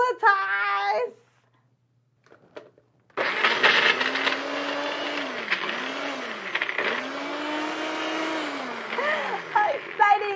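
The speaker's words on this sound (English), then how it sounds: "Now we're gonna blend it." A NutriBullet blender whirs steadily and loudly for several seconds while blending a cleanser, its motor pitch dipping and rising under load, after a brief spoken moment and a short pause.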